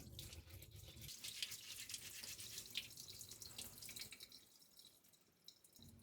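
Tap water runs steadily over fresh ginger being washed at a sink for ginger pickles, a continuous close splashing hiss with small drips and bursts that eases off near the end.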